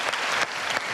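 An audience at a university event bursts into dense, steady applause, a close and loud wall of overlapping claps with no voices.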